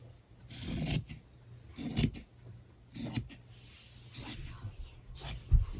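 Scissors cutting fabric for a homemade face mask, heard as five separate bursts of rasping snips about a second apart, close and fairly loud, with no talking.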